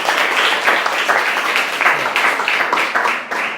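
A classroom of students claps together for a classmate, a dense, steady burst of applause lasting several seconds, fairly close and loud, with no talking over it.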